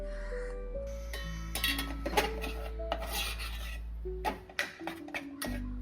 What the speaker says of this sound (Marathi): आता त्याच कढईत थोडं तूप घालून घ्यायचंय आणि गव्हाचं पीठ जे आपण घेतलेलं आहे ते थोडं परतून घ्यायचंय.